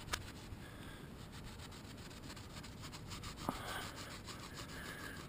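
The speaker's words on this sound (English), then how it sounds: "They're actually cleaning up pretty good with some steel wool here." Steel wool scrubbing rust off chrome wheel rims, a faint continuous scratchy rubbing with repeated strokes, close but quiet, no talk.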